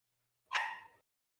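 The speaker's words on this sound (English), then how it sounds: "I got like a dog just going crazy in the back" A dog barks once, a short sharp bark set back in the background, alone against silence.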